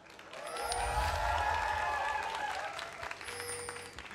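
Audience applause at a WCG 2013 League of Legends Korean qualifier finals match, a steady wash of clapping from a large crowd swelling and fading over a few seconds, heard at a moderate distance.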